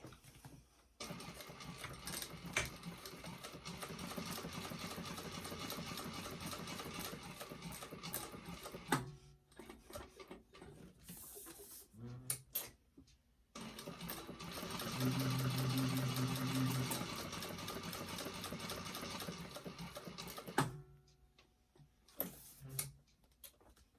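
Sewing machine topstitching a bag, running in long steady bursts of rapid stitching with short pauses between runs, close and fairly quiet, with no talking.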